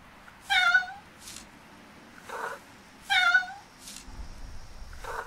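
A cat in a hidden object video game meows twice in clear, close, rising calls, each followed by softer short sounds, set against a quiet background.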